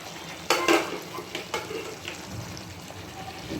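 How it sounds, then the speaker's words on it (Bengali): Pieces of fried chicken are tipped into a pan over a lowered flame and stirred, giving a steady sizzle with a couple of sharp clatters of utensil against the pan early on, without talk. "সমস্ত চিকেন ভাজাগুলো এর মধ্যে কিন্তু আমি দিয়ে দিলাম।"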